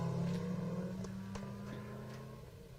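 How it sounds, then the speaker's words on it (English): Subaru rally car number 44 driving through a special stage, a steady low engine drone with faint higher whooshes as it moves along, fairly close and without talk. "I love this Subaru."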